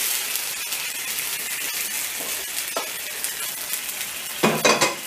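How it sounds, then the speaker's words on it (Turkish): Meat pieces for Turkish tas kebab tossed into a hot pot and stirred, giving a steady close sizzle with scraping spoon strokes and a louder clattering stir near the end. "tenceredeki etlerimizi atıyoruz"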